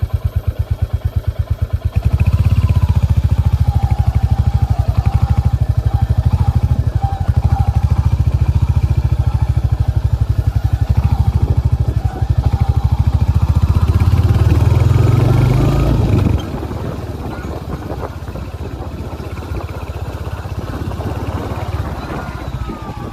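Royal Enfield Hunter 350 motorcycle riding along with a steady, loud low engine thrum throughout, revving up before easing to a quieter cruise with wind and road noise in the latter part.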